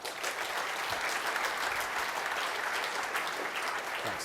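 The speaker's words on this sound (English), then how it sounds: "So, round of applause for Jason and Jacob." A conference audience at a Wii U presentation fills the hall with sustained applause, a dense and steady clapping that runs evenly throughout.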